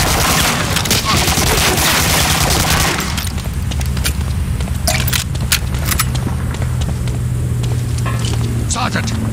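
Sustained heavy gunfire from Medal of Honor: Spearhead, a World War II shooter game, with dense rapid bursts and booming explosions layered continuously, loud and close, while shouted voices cut through the battle noise.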